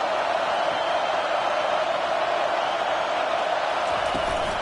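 A football stadium crowd keeps up a loud, steady roar of cheering and noise, a dense wall of sound that holds level throughout.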